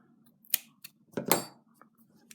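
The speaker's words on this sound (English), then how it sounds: "you can just cut your wool then" Scissors snip through wool yarn while finishing a crocheted baby hat, giving two or three short, crisp close cuts with quiet pauses between them.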